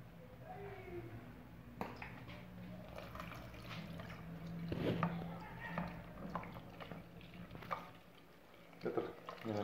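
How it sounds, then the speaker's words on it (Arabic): Half a litre of milk pours into premium flour for Turkish-style muhallebi, a soft liquid splashing and trickling that runs under a voice as she talks throughout. "غادي ندخل فيه نص او لتر من الحليب"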